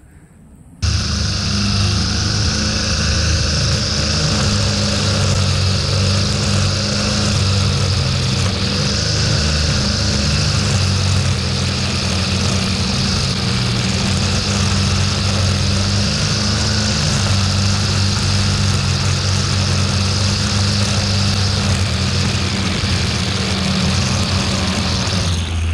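A string trimmer fitted with twisted spiral trimmer line cutting through weeds, its small engine starting abruptly and then running at a steady high whine, loud and close, for about twenty-five seconds.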